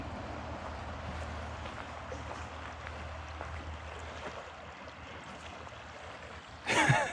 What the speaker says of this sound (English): River crossing.